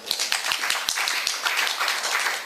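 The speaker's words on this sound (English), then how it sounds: "Let's give them a big applause." Applause from a gathered audience honoring a returning earthquake reporting team, dense overlapping hand claps with scattered sharper individual claps, steady and fairly close for a couple of seconds with no talking.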